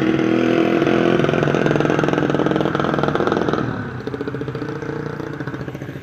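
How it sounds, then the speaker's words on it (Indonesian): Roadside traffic noise with vehicle exhausts droning nearby: a loud, steady engine rumble that drops in level partway through and continues more quietly with a rough, pulsing idle. "Ini karena pinggir jalan jadi banyak knalpot ya, pada berisik"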